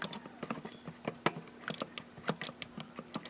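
Crisp clicky micro switch buttons on an early-2000s Jakks Pacific game controller, pressed in quick irregular bursts of sharp ticks, close and alone.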